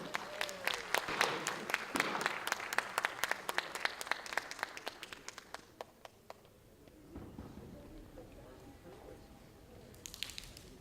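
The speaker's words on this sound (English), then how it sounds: "Another round of applause for our thriving third graders." Applause at a regular school board meeting honoring elementary third graders, a smaller group clapping with distinct individual claps that thin out and taper off after about six seconds, leaving faint room noise and a brief voice.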